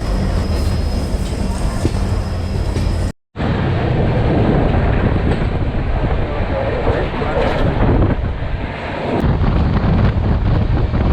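A loud, continuous rumbling roar of the Thirukkural Express passenger train departing a station, with heavy wind buffeting and a brief cut in the sound.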